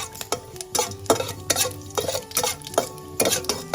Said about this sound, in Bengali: রিফাইন তেল দেওয়ার পরে আবার আমি কি করব এলাচ লবঙ্গ এবং দারচিনি দিয়ে দেওয়ার পরে একটু হালকা করে নাড়িয়ে দেবো